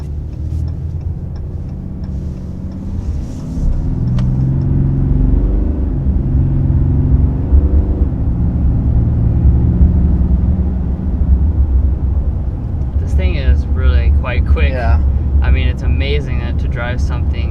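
A 2022 RAM 2500 HD heavy-duty pickup pulls away under acceleration, its low engine drone rising and dipping through gear shifts beneath steady talk, with brief faint squeaks late on.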